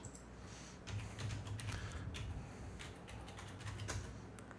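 Rapid, irregular keystrokes on a computer keyboard, fairly close and steady throughout, with a low background hum underneath and no talking.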